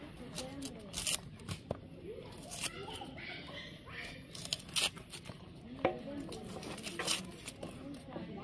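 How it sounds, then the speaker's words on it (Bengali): Onions are cut with a knife for a village-style spicy chicken dish, giving crisp, irregular slicing and tapping strokes close by while a person talks over them. "এই যে পেঁয়াজ কাটবো এখন"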